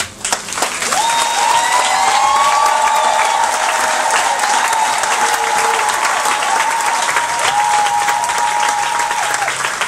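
Church congregation applauding and cheering in praise, a dense, sustained roar of clapping with voices calling out over it, loud and continuous throughout.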